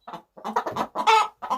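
A backyard hen sings her egg song, a run of loud, close clucks in quick bursts with short pauses between, rising into a drawn-out squawk near the middle.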